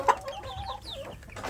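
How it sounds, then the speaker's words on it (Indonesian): Young free-range village chickens, about two months old, clucking in a grow-out pen at morning feeding, with a sharper call near the start and soft, scattered fowl chatter throughout, fairly close. "Pagi ini saya memberi makan anak ayam kampung saya di bagian pembesaran ya"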